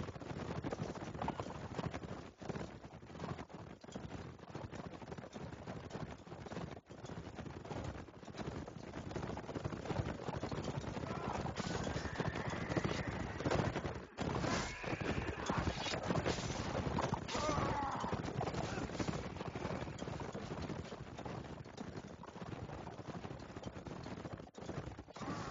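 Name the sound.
cavalry horses galloping in a battle, from a video game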